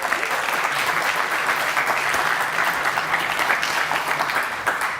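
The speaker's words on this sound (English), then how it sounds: "Give him a warm applause," A conference audience claps warmly to welcome a speaker to the stage, dense continuous applause from a room full of people, sustained at an even level for the whole stretch.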